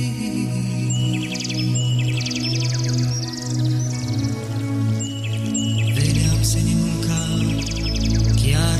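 Bright, rapid trilling skylark song warbles high above sustained musical tones, continuous and fairly loud throughout.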